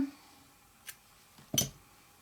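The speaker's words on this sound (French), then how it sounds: "on coupe" Scissors snipping knitting yarn while a knitted collar is finished: two short, faint, crisp cuts about 0.7 seconds apart in an otherwise quiet room.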